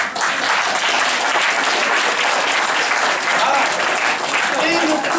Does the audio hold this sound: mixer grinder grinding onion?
no